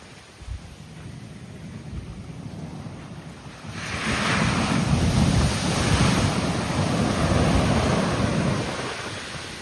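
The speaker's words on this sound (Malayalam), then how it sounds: "കടലിൻ്റെ ആ ശബ്ദം" Sea waves rolling onto Kollam beach, a low steady rumble that swells into a louder, broad wash of surf about halfway through, with wind buffeting the microphone throughout.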